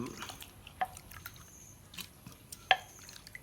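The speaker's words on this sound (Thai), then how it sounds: "ใส่น้ำแล้วก็กรอง กรองเอาน้ำ" Water poured over a pounded mixture for a Thai bamboo-shoot pork dish drips through a strainer in soft, scattered drops, faint and close, with a few sharper plops amid quiet background noise.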